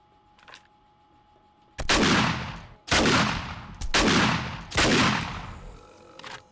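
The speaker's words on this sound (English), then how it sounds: "We'll just take them out with a shotgun" Four loud shotgun blasts in the video game 7 Days to Die, spaced about a second apart, each with a long booming decay, after a brief faint sound at the start.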